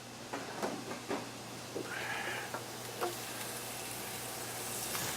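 Shrimp frying in olive oil over high heat, a steady hiss and sizzle with several sharp spits and pops, plus a brief louder crackle burst midway, close and moderately loud.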